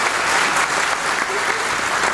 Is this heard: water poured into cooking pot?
no